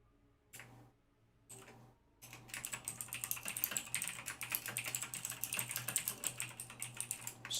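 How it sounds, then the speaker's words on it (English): A loud computer keyboard clatters during a livestreamed Outriders game session. A few isolated key presses come first, then a fast, continuous run of close, sharp clicks with no talk. "Sorry if my keyboard is super loud."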